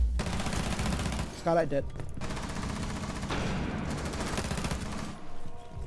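Sustained gunfire from a round of Rainbow Six Siege, dense bursts of shots running almost throughout with a sharper cluster partway in, while players talk over it.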